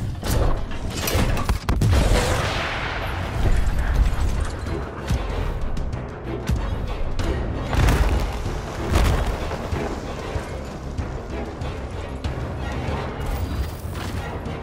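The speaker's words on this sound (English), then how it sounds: "Incoming rockets!" Rocket explosions during a boss fight in the video game Gears Tactics ring out as repeated heavy booms amid a dense, continuous battle din with mechanical clanking, loud and close throughout.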